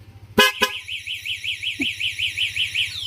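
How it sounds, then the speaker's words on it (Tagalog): A Corsa V3 snail horn fitted to a Yamaha NMAX scooter blasts twice in quick succession, then holds a loud, warbling, wavering tone over a steady engine idle, close and piercing. "ito na mga kadete yung resulta ng ating ginawa o pinalit na busina sa ating NMAX"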